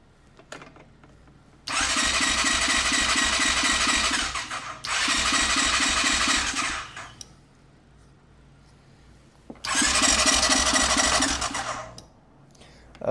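An ATV or dirt bike engine cranks over loudly in three long, rhythmic bursts of a few seconds each, separated by quiet pauses, close by and with no speech.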